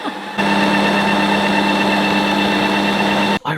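A Ninja Creami ice cream maker running with mix-ins inside gives a steady, loud motor drone with a buzzing rattle, starting abruptly and briefly dipping near the end.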